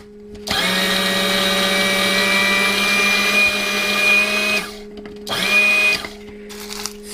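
A blender pulses dehydrated tomato skins in two bursts, a long loud whirring run and then a shorter one, each with a steady motor whine and a rattling grind, separated by brief silence.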